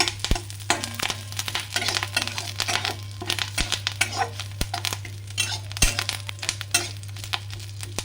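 Fennel seeds and radhuni spice frying in a pan while being stirred, with repeated scraping and clinking of a utensil against the pan over a steady low hum, no talking.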